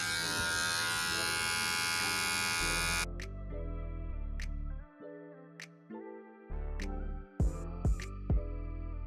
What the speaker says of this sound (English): I just made the next guideline with this clipper all the way closed